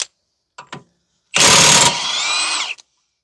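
An impact gun on the axle nut of a 2010 Toyota Corolla 1.8 gives a couple of short taps, then a loud, close, sustained whir of just over a second that eases into a steadier, quieter spin before it stops.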